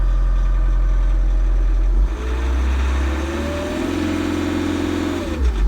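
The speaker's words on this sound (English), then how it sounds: "Separate throttle, so you can speed that up and just creep the vehicle along" A 2017 Bobcat Toolcat utility vehicle's medium engine idles low, then revs up with a steady rising roar held for several seconds before dropping back, loud and close with no talk.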